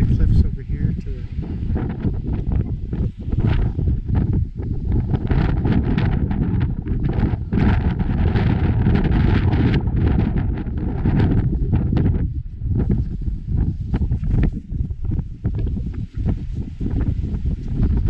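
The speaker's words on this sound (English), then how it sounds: "As you can hear, it's very windy up here." Strong gusts of wind on the Cliffs of Moher roar and buffet the microphone continuously, a loud rumbling rush that barely lets up.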